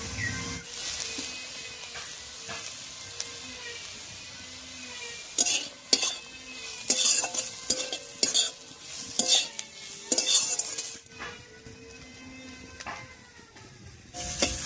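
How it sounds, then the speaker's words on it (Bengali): Banana tree stem being stirred with turmeric and salt in a wok, with repeated scraping clatters of a spatula against the metal over a continuous sizzle, no voices. "হলুদ লবণ দিয়ে খুব ভালো করে মিশিয়ে নিয়েছি।"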